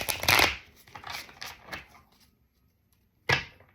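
Playing cards are riffled and shuffled in a few quick, crisp bursts close up, followed by a pause and one final sharp riffle.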